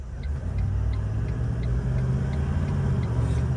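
Land Cruiser 79 engine pulling at about quarter pedal through a fitted 8-speed automatic transmission, a steady low rumbling drone near the vehicle with faint regular ticking above it, no talk.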